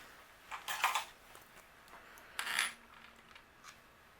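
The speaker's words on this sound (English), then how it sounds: "I'm going to bring in my sequins, my sequin mix, and we're going to add just a few of the iridescent ones" Iridescent sequins from a sequin mix being handled for card making, two short bright rattling bursts of tiny plastic pieces close by, separated by quiet, with a faint tap near the end.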